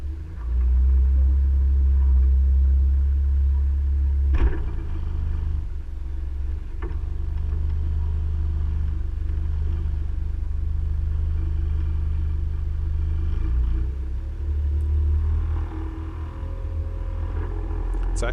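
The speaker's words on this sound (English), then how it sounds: "you'll hear me start the outboard in a second here" Outboard motor on a MacGregor 26 sailboat at dusk while docking: a loud, steady low engine drone runs throughout with a couple of sharp knocks, no talk.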